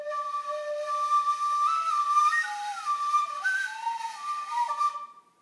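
A child blows a low D on a tin whistle and it comes out shrill and unstable, jumping up into overblown upper notes and wavering for several seconds before cutting off.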